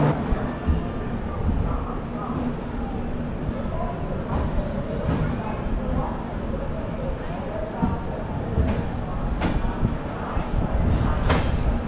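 An express train starts moving out of a junction station, rumbling steadily with periodic clanks and rattles as it rolls along, with indistinct voices mixed into the noise.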